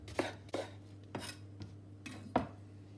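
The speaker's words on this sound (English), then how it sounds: "Slice your shallot." A knife slicing a shallot on a board, with five or six crisp separate strokes spaced irregularly, close and moderately loud over a low steady hum.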